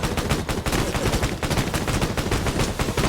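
Rapid, continuous video-game gunfire fills the clip, dense bursts of shots close and loud throughout, with no pauses and no voices.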